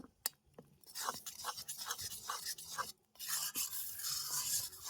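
Sesame seeds are stirred in a pan as the water dries off while making homemade sesame oil, with quiet, close, rhythmic scraping and rasping strokes broken by brief pauses, and nobody talking.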